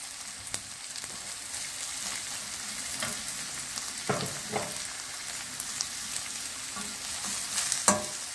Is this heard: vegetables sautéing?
yes